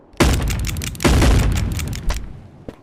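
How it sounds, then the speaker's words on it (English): Revolver gunshots in the VR game Animal Company: two sharp, loud booming shots with reverberant tails, then a few quieter pops and a brief click near the end. "I shoot myself."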